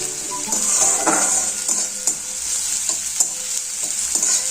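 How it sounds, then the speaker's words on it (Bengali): Onions sizzle steadily in hot oil in a pan for chicken curry, while a utensil stirs and scrapes with intermittent clinks, close and moderately loud. "আমার পেঁয়াজগুলো ভাজা ভাজা হয়ে এসছে"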